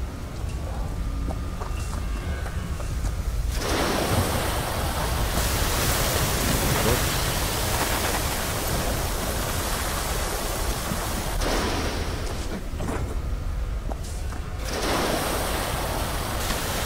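A fire hose blasts a powerful spray of water in the video game Chernobyl Liquidators Simulator, a loud hissing rush that cuts in and out in long sustained bursts.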